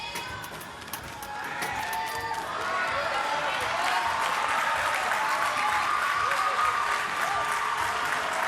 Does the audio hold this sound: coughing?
no